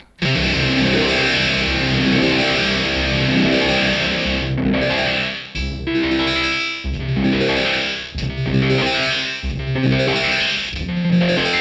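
A distorted electric guitar plays through a Source Audio Ultrawave multi-band tremolo pedal, its loudness chopping rhythmically in stepped patterns, loud and continuous with no voices.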